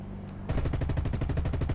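Aircraft cannon fire from a Typhoon in the combat flight game War Thunder: a sudden rapid burst of heavy automatic gunfire with fast evenly spaced thumps that carries on steadily after a quiet lead-in.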